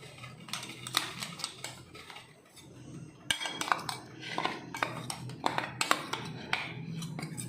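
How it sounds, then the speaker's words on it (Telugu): Spicy flaxseed chutney powder is moved onto a plate with quick, irregular clinks and scrapes of a metal spoon against dishware, close and fairly quiet, with no talk. "ఇది ఒక ప్లేట్లోకి వేసుకుందాం"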